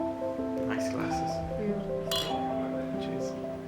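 Wine glasses clink together in a toast in the first-class apartment of an Etihad Airways A380, a few bright light chimes over the steady cabin hum, with people talking nearby.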